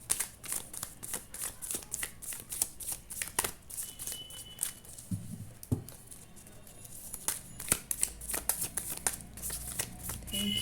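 Tarot cards being shuffled by hand, a run of quick papery riffles and slaps in irregular bursts, close up, with a brief low murmur partway through.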